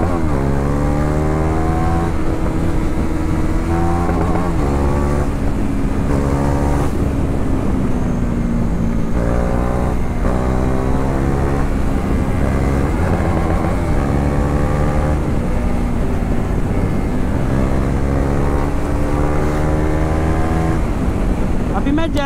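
A KTM Duke 390 motorcycle engine drones loudly and close as it is ridden on the street, with repeated rising and falling revs as it shifts through the gears.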